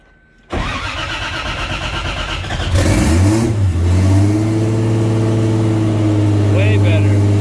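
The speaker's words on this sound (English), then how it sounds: "Engine start." A budget-build car engine cranks briefly, catches on the first try, then revs up loudly and settles into a strong, steady running note close by.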